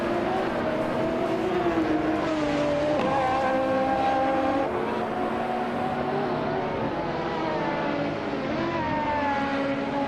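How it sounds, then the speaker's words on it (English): A 2019 Ferrari Portofino races in a video game, its engine note whining and shifting pitch through gear changes, steady and loud, with other racing cars droning alongside. "Amy is driving a 219 Ferrari Portofino and is currently in 15th place."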